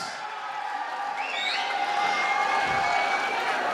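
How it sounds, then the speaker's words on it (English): Graduation ceremony audience applauding and cheering together, a dense steady wash of many hands with a few whoops rising over it, continuous and fairly loud throughout. "Give them a big round of applause"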